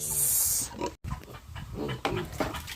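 Pigs grunting and snuffling close by in short irregular bursts, with a brief burst of hiss at the start and a momentary cut.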